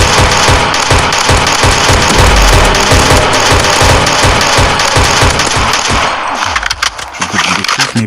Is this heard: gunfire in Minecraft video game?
yes